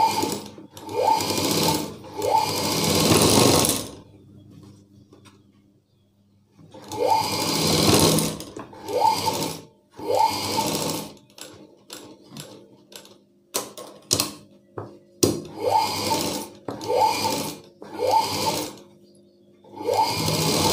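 A sewing machine stitching cloth rattles in rapid bursts, starting and stopping several times, with short quick runs near the end; close and loud.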